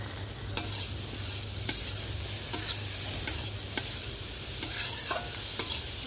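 Sugar being stirred into potatoes frying in a pan for poha: a steady sizzle runs throughout, broken by sharp spatula scrapes and clicks that recur about once a second.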